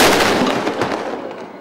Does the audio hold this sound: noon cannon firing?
yes